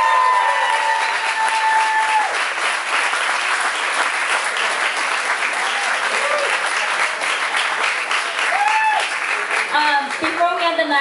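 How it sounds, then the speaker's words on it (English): Sustained audience applause for a series of talks at an evening event, a dense, steady wash of clapping lasting the whole stretch, with a few voices calling out near the end. "How about we have one more round of applause for all of our speakers?"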